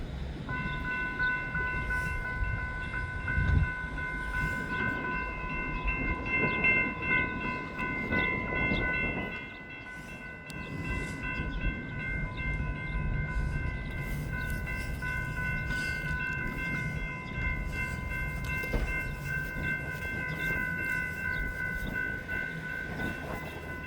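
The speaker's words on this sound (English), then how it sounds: "BNSF train number 1262 to Chicago Union Station is now arriving." BNSF commuter train pulling into Hinsdale station on a line to Chicago Union Station, a steady rumble of rail cars with sustained high tonal squeal, close and loud throughout, with a brief dip midway.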